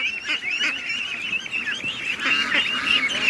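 A flock of ducks and ducklings being let out of their pen toward a lake, giving repeated nasal honking quacks and high peeping calls, close and busy throughout.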